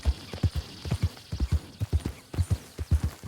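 Zebra hooves clip-clop steadily in Red Dead Redemption 2, a quick rhythmic run of close, punchy hoofbeats on hard ground with no talk over them.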